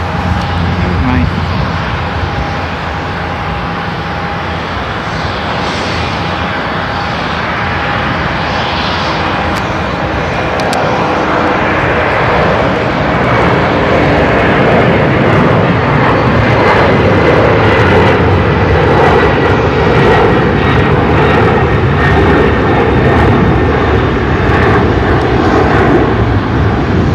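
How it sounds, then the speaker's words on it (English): An Omni Air charter jet passes at Seattle-Tacoma International Airport with a loud, sustained engine roar that swells and holds for the full stretch, while people talk over it. "It's an Omni, it's a charter flight."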